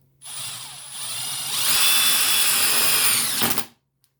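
A Milwaukee M12 Fuel second-generation brushless impact driver drives self-tapping screws. It gives one loud, sustained high-pitched whir that rises in intensity and then cuts off abruptly after about three seconds, heard alone and up close.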